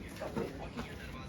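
Chickens being bought at a village market in Nepal cluck in a few short, soft bursts close by, mixed with murmured voices and background bustle.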